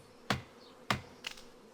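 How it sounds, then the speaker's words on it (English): Bees in the video game Balrum, heard as two sharp, close bursts of buzzing followed by a fainter third one, each brief and separated by quiet gaps, with no talking. "Alright, we got some more bees."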